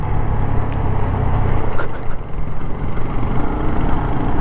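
A Yamaha MT-15 motorcycle engine on the road, a loud close continuous drone as it accelerates, with engine hum and wind rush held steady throughout.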